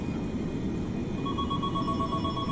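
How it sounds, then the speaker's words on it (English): A faint electronic telephone ring chirps in repeated tones over a steady low background hum, with no voices. "Uh-oh, another phone call."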